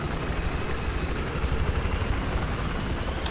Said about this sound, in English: I'm going to go fly the chopper.